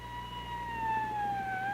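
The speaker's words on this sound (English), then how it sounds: "When you hear a siren, pulling over and stopping is the defensive as well as the legal action to take." A loud emergency siren wails steadily, its tone slowly sweeping as the vehicle passes close by, with road rumble underneath.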